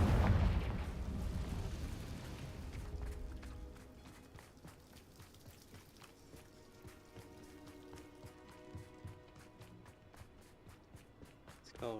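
A Confringo fire spell explodes in Hogwarts Legacy, with a loud burst at the start that decays into softer rumbling and scattered crackling impacts and footsteps across the rest of the scene.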